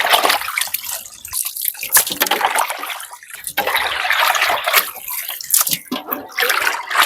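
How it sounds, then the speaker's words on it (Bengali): Raw chicken meat washed in water in a village kitchen, with irregular splashing, sloshing and pouring from close by, steady and busy throughout. "তাই মাংসটাকে ভালো করে একদম ধুয়ে নিচ্ছি।"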